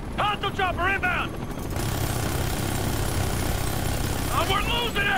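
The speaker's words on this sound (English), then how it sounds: "Hostile chopper inbound!" A hostile helicopter approaches in the video game Ghost Recon Future Soldier, a steady loud rotor and engine drone that underlies the scene while urgent shouted voices break in at the start and again near the end.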